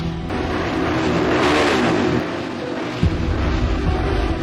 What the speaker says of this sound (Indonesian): keren juga nih motor.